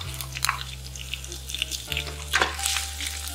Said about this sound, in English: And they're gonna start to sizzle up.